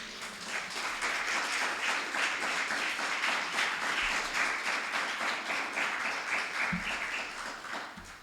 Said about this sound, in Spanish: es para darles muchos aplausos al Señor